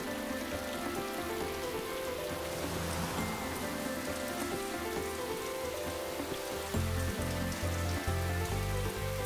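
Heavy monsoon rain pours down steadily and loudly in a hilly area, a dense continuous wash of drops that grows heavier and more pounding near the end.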